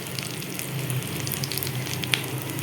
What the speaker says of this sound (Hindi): आलू की जो टिक्कियां हैं वो फ्राई हो रही हैं, इनको हम गोल्डन ब्राउन होने तक फ्राई करेंगे।